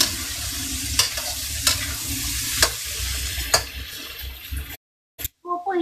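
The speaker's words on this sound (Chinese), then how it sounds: "这胡萝卜要炒久一点，等下炒熟一点" Carrots are stir-fried in a pan with a steady sizzle, broken by several sharp scraping strokes of a spatula, heard close up before a brief drop to silence.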